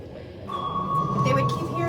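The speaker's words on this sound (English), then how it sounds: "This is the sound of the active sonar coming from the American Hunter-Killer Task Group." A single clear active sonar ping from an American hunter-killer task group rings out as a sustained pure tone inside a submarine exhibit, heard under a low rumble with a voice talking over it.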